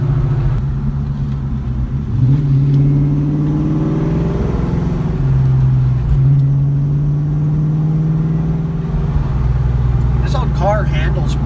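A cammed 2004 Ford Mustang GT V8 revs and pulls through the gears from inside the car, its loud low rumble rising and falling in steady surges under someone talking.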